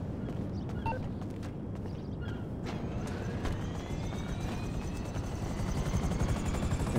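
A Skylift heavy-lift helicopter flies in GTA V Online, its rotors making a constant dense chopping roar that fills the whole stretch, with a faint rising engine whine near the end.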